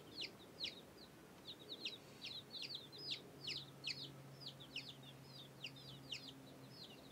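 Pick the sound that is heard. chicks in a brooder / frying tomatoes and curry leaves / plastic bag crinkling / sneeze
chicks in a brooder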